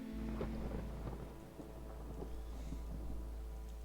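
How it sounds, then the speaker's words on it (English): A storm begins in the video game Against the Storm with low rolling thunder rumbling steadily beneath pattering rain, a faint, continuous wash of storm sound with no talking. "Start of storm"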